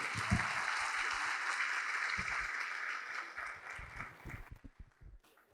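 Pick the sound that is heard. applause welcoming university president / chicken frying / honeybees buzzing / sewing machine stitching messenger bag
applause welcoming university president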